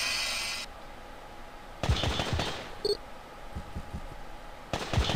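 Heavy machine gun fire in the video game Incubation, with several short, loud rattling bursts separated by quieter gaps and a brief electronic tone between them, with no voices.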